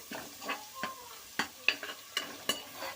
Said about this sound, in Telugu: ఇలా పేస్ట్ వేసుకొని బాగా కలుపుకోవాలి